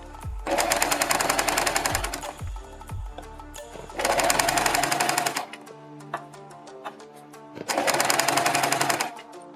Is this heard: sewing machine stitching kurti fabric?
yes